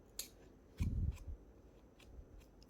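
Scissors snip the edges of a resin beach coaster, a few sharp cuts close by: a quick click, then a heavier low crunch mid-clip, followed by lighter faint snips in a quiet room.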